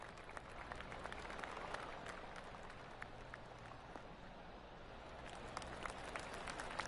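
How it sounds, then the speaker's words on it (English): A golf crowd applauds steadily at a distance on the 17th hole at the Phoenix Open, a soft continuous patter of many hands over an outdoor background hum. "Oh, golf clap."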